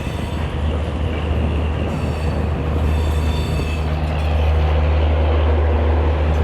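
The 12787 Narsapur–Nagarsol SF Express runs out of Vijayawada with a loud, steady rumble of wheels on rail and a sustained metallic squeal that grows slightly stronger toward the end, with no voices.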